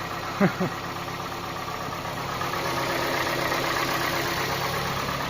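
A 2013 Kia Sportage engine idling on gas fuel, a steady even low hum running throughout, with a brief voice at the start.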